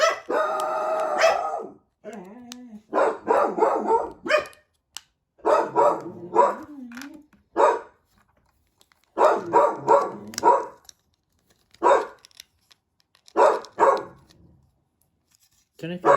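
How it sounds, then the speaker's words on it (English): Two dogs bark repeatedly nearby in short bursts and yips with gaps of silence between them, while a person talks at times. "Don't know if you can hear, but there's 2 dogs barking."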